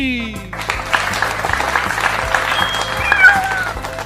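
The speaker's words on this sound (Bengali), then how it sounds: "সবাই একসাথে জোরে হাততালি দে" A group of people claps loudly together in a dense, fast burst that fills the whole stretch, with a rhythmic musical backing underneath and a high tone sweeping through near the end.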